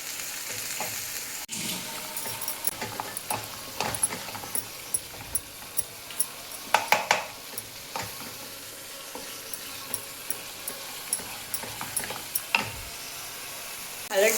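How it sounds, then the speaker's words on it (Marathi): Masala of spices frying in oil in a pan for a Marathi soybean bhaji, a steady close sizzle broken by irregular scraping and stirring clicks. "मसाला चांगला तेलामध्ये लाल होस्तर भाजून घ्यायचा आहे"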